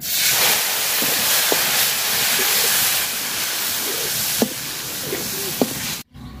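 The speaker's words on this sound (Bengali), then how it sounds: "মাছ ভাজার তেলে আমি বাটা মশলাটা দিয়ে দিলাম" Ground spice paste sizzles in hot oil left over from frying pond-caught fish, a loud continuous frying hiss with a few soft knocks, ending abruptly in a brief silence.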